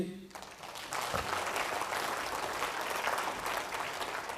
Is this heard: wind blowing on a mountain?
no